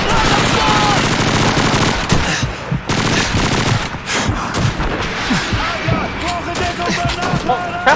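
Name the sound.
gunfire in the video game Call of Duty 2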